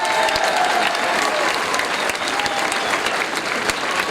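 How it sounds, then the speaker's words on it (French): A large outdoor crowd claps steadily and loudly throughout at the opening ceremony of the 2023 Fêtes de la Madeleine, a dense continuous wash of applause with a few sharper claps standing out. "Merci de les applaudir"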